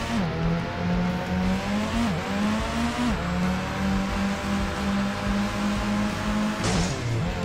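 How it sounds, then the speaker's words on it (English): A car drifts in a VR racing video game, its engine droning and shifting in pitch with sliding tire noise, loud and close, and no talk. "Oh, drifting."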